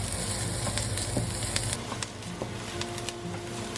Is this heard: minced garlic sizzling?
yes